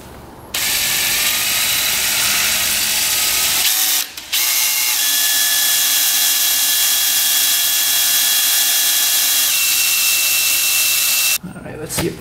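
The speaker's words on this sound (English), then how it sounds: "we've got the bolt stuck in the case right here, so let's drill that out" A power drill runs steadily at high speed, boring out a stuck bolt in a quad's metal case with a grinding whine, stopping briefly partway through before continuing, then cutting out near the end.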